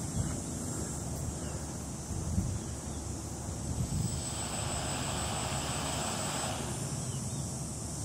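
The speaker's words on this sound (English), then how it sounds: "I'm going to now, for the first time, activate the quadcopter." A quadcopter with a NAZA Lite flight controller has its motors activated for the first time, producing a steady, even propeller whir with a high whine that holds for several seconds before easing slightly, heard alone at moderate distance.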